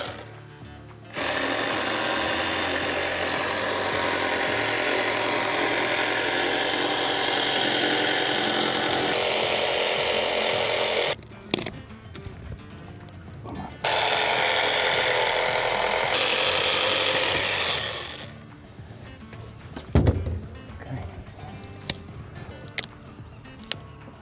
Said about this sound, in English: It's a Milwaukee hacksaw.